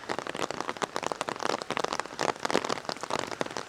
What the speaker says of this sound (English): it's dying down a bit, the rain